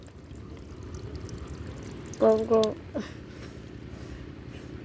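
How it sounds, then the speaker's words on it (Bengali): Water gushes from the tap of a household tank in a few short bursts, loud and close, over a low steady background hum. "এই যে বেরোচ্ছে জল"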